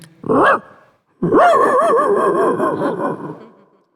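A mimicry artist on a comedy stage imitates a pet dog barking: one short yelp, a pause, then a longer run of wavering bark-like yowls, close and loud.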